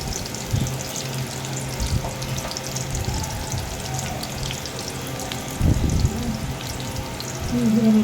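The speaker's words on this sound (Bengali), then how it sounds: "চুলায় কড়াই দিয়ে দিলাম, তেল দিয়ে পেঁয়াজ কাঁচামরিচ দিয়ে দিলাম।" Onion and green chilli fry in oil in a wok, giving a continuous moderate sizzle with a few louder clattering bursts of movement and a brief faint tone near the end.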